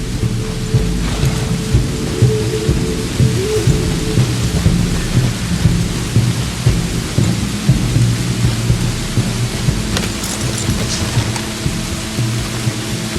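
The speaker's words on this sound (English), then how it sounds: "Really wish it wasn't raining, however, the weather does suit the mood." Steady heavy rain hisses in a video game while deep thunder rumbles and rolls underneath, loud and continuous with no pauses.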